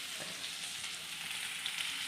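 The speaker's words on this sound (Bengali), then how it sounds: "এই আলু ভাজা হচ্ছে" Potatoes frying in a pan at home give a steady, even sizzle with faint crackles, heard close and alone without any voices.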